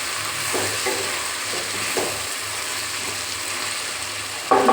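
Okra fry being turned over in a pan on the stove, a steady soft sizzle running throughout with faint scraping strokes of the spoon and a brief louder scrape near the end.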